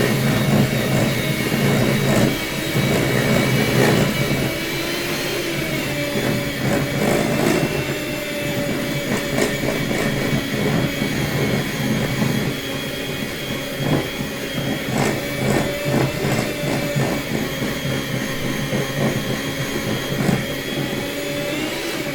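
An electric mixer whirs loudly and continuously while creaming white granulated and soft light brown sugar together, a steady motor drone with slight rhythmic changes as the beaters work the mixture.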